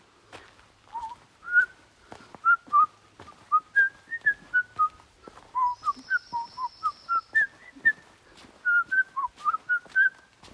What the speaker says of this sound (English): Pretty bad whistling. Can't carry a tune.